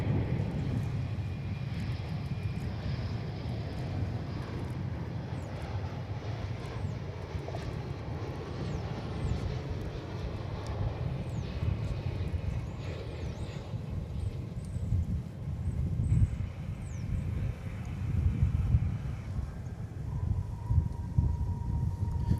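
An airliner comes in to land at Dallas/Fort Worth Airport, its broad engine rumble and whine holding steady and rising slightly as it nears, heard alone at moderate distance.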